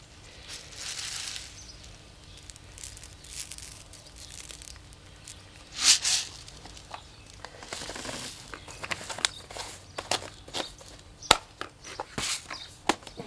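Citrus soil mix being stirred together with slow-release fertilizer: soft, gritty rustling and crunching scrapes at close range, quiet at first and then growing into irregular bursts with sharper scuffs.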